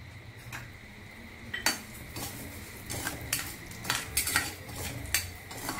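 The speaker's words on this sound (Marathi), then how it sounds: "आता हे आपल्याला व्यवस्थित भाजून घ्यायचे आहेत तुपामध्ये" A spoon scrapes and clinks against a pan while Ambemohar rice roasts in ghee, irregular metallic knocks growing busier over the second half, close and without speech.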